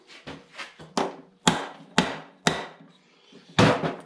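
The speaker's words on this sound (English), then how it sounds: "We'll just take this right here and smack it and see how far it goes" Hammer blows on a Farmall Cub tractor's rear axle, about eight sharp metallic strikes in an irregular rhythm, close and loud, with quiet gaps between hits.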